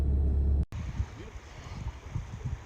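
A river rushes near a boondocking spot around Watson Lake, Alaska, a steady soft wash of flowing water with some wind, heard after a brief louder sound at the start.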